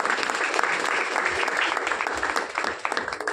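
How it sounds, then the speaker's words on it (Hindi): A crowd at an event gives loud, sustained applause for a pair of guests being introduced, continuous dense clapping with no pauses from start to finish. "तो इनके लिए भी जोरदार ताली होनी चाहिए।"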